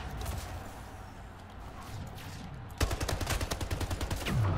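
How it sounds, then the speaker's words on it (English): Sniper rifle fire in the Splitgate video game: a sharp loud shot around the midpoint, followed by a rapid burst of repeated gunfire cracks over a busy game background. "He sniped you."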